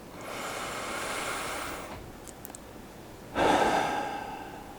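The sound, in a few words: deep breath during meditation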